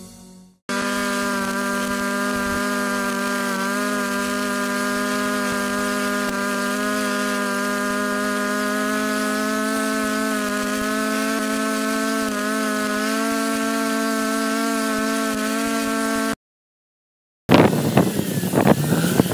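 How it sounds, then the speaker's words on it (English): A high-horsepower John Deere tractor pulls a heavy-duty offset disc harrow through primary tillage, its engine holding a steady, loud harmonic drone for most of the time, then cutting out briefly before a burst of rough, noisy clatter. "High horsepower John Deere tractor pulling a heavy-duty offset disc harrow for primary tillage."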